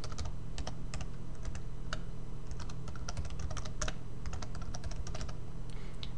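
Fingers tap on a computer keyboard while entering a name and username at a sign-up form, producing scattered quick keystroke clicks over a steady low hum.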